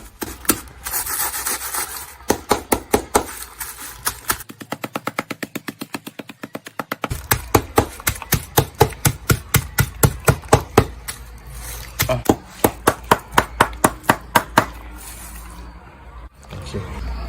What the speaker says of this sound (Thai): จากนั้นให้เรานำตะไคร้หอมมาสับต่อครับ